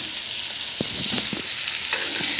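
Potatoes and carrots sizzle in a pan as turmeric and curry leaves are stirred through, with a steady hiss and a few soft scraping strokes up close.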